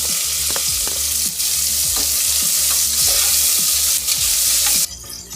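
Tomatoes frying with onions in a pan while being stirred: steady close sizzle with repeated scraping stir strokes throughout, no voices.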